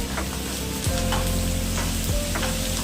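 Onion frying in a pan on a home stove, sizzling steadily throughout with a couple of scraping stirs of a spatula, close and fairly loud, no talking.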